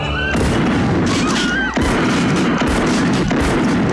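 Heavy gunfire from the 1984 film The Terminator plays loud and continuous, with dense overlapping shots and booming bursts and only a brief dip in the middle.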